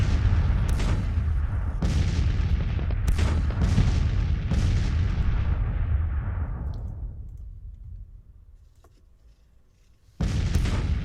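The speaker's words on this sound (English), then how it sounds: "his artillery does a really good job pounding me" Artillery fire in the Grand Tactician Civil War game booms repeatedly in sharp, heavy blasts with rumbling tails, several shots in quick succession, then fading to near quiet before one more blast near the end.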